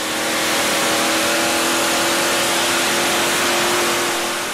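A twin-engine tractor-pulling tractor at the 2008 European Championship in Bryne, 2.6-ton class, roars loudly and steadily while hauling a sled, its engine note held high with no clear shutdown.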